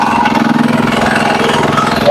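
A generator engine runs steadily aboard a fishing boat far out at sea, a loud, close, continuous mechanical drone with a rapid, even pulse from start to end.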